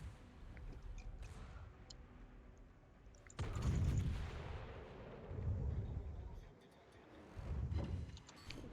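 Naval gunfire in World of Warships, with heavy booming salvos at steady intervals after a quieter stretch of low rumble, loud and close with sustained low-end roar after each blast.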